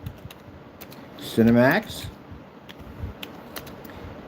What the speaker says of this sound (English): So if we type in, grab my keyboard here,